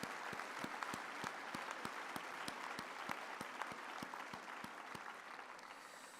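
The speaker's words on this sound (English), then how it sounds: "we should give them a hand of applause" Applause from the audience at a university humanities faculty graduation ceremony, many hands clapping steadily in a large hall, with a regular clear clap near the microphone repeating rhythmically over the softer crowd wash.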